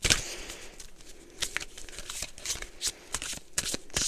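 Tarot cards are shuffled in a run of quick, crisp riffles and flicks, close and fairly soft, with no talking.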